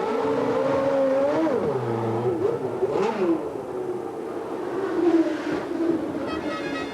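A Ferrari Formula One race car engine screams at speed, its high pitch rising and falling through gear changes as the car passes, loud and continuous with no voices.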